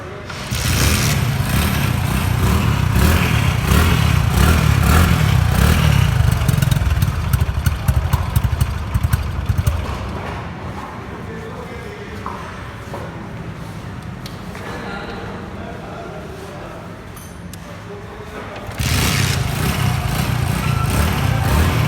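A 2022 Honda Pridor motorcycle engine with a chrome-plated silencer runs steadily at close range, loud and rumbling, then drops to a quieter idle before revving back up near the end.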